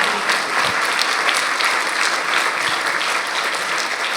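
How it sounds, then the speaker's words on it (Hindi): A congregation at a live Hindi worship service in a Dubai church bursting into loud applause for Jesus, a dense, continuous roomful of clapping with no voices standing out. "एक जोरदार ताली यीशु के लिए।"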